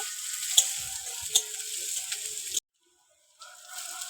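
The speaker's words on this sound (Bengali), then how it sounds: "পেঁয়াজটা একটু ভেজে নেব" Chopped onion frying in a pan with garlic, a steady close sizzle with a few sharp clicks of a utensil, cutting off into a brief silence before the sizzle resumes.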